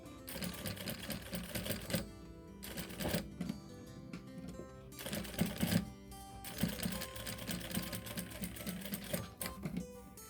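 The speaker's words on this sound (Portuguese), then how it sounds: "Desce o terminalzinho e finaliza a costura." Sewing machine stitching the final seam on a thermal lunch bag, running in steady rhythmic bursts with brief pauses between runs, close and clear with no talk.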